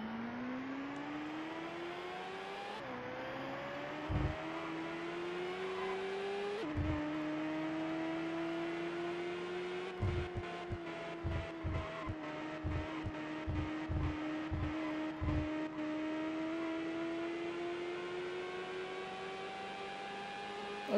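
An IndyCar race car engine in a racing video game drones steadily and loudly, its pitch climbing through several upshifts, with a rapid string of sharp clicks or bumps in the middle stretch.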